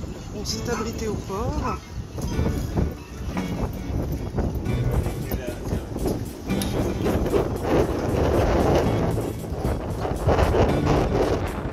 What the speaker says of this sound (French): Un coup de vent en Méditerranée.